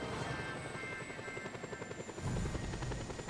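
A helicopter in Just Cause 2, taken at the top of an airport building, whirs with a steady rhythmic rotor chop, loud and close throughout, growing heavier toward the end.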